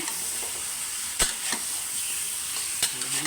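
Pork ribs frying in a pan for tomato-based kaldereta, with a steady sizzle broken by a few sharp scraping strokes of stirring, close and moderately loud.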